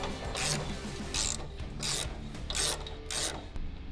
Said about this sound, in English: So we're taking this last bolt out from the top hat here